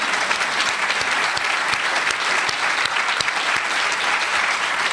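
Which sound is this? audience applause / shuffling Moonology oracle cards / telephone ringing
audience applause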